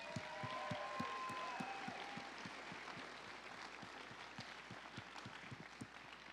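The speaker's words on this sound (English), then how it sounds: "Let's give them another round of applause." Audience applause for performers at a folk festival gala fills the space as a dense, steady wash of clapping, with sharper individual claps standing out in a loose rhythm and some faint tonal sound early on.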